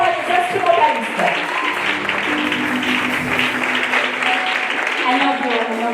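Applause from an audience at a church thanksgiving concert, a steady dense clapping that fills the space, with voices mixed in under it.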